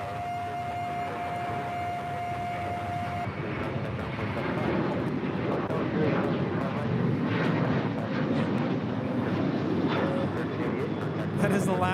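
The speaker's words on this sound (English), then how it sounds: "That is Alaska 1388 departing to Los Cabos on the 737-900 ER" An Alaska Airlines Boeing 737-900ER departs LAX for Los Cabos, its broad, sustained jet roar filling the scene steadily and loudly throughout, with a brief steady tone at the start and voices murmuring beneath the noise.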